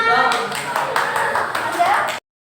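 A short burst of applause from a group, many hands clapping together for about two seconds before cutting off abruptly, with voices mixed in.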